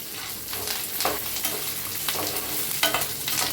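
Peanuts, curry leaves and green chillies fry loudly in hot oil, giving a continuous close crackling sizzle with bursts of spattering and the scrape of stirring.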